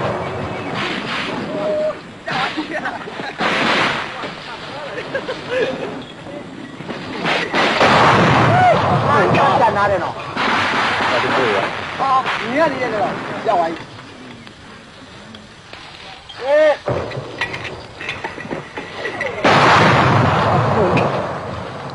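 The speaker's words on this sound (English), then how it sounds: "As suddenly as it began, the barrage ceases." An artillery barrage in wartime Burma thunders through repeated heavy booms and rumbling blasts, loud and sustained over most of the stretch, with a voice narrating over part of it.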